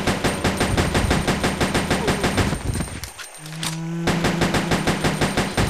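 Rapid automatic gunfire from a weapon in Resident Evil Code Veronica X, a dense run of loud, evenly spaced shots that breaks off briefly, then resumes with a sustained tone and steady firing.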